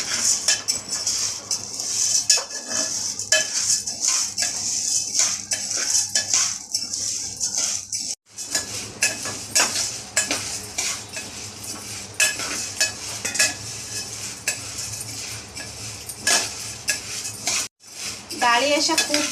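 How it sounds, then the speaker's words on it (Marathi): Lentils dry-roasted in a pan for khamang chakli bhajani flour, stirred with a spoon that scrapes and clinks against the metal in a steady, continuous rhythm, close and fairly loud, with no talking. "डाळी अशा खूप जास्त भाजायच्या नाही, आपण अशा साधारण भाजून घ्यायच्या"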